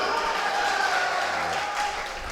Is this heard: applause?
yes